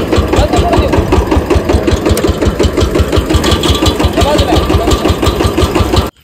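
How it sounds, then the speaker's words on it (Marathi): A farm tractor's diesel engine chugging loudly and close with a fast regular knocking pulse as it is driven out, cutting off abruptly at the end. "त्या दिवशी का आम्ही ट्रॅक्टर कसं काढलं बघा"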